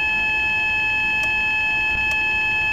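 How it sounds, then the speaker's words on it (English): A continuous high-pitched electronic warning tone with rapid pulsing beeps over a low engine rumble, steady and loud throughout, from the Train Simulator 2014 video game. "Why is it beeping at me?"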